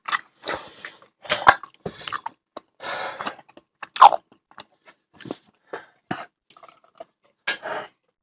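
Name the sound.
chewing a fruit chew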